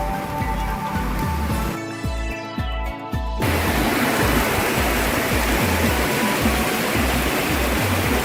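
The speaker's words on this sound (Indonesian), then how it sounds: "terdengar gemericik suara sungai yang menambah keindahan" River water flowing beside a riverside eatery with rocky banks, a dense, steady broadband rush that is loud and close throughout, overlaid by a repeating low rhythmic thumping, with no voices.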